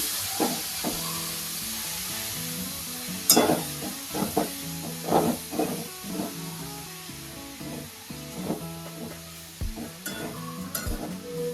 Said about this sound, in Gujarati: હવે એમાં ગાજર નાખી દેવાનું છે ખમણેલું બધું. ધીમા ગેસે શેકવાનું છે આને.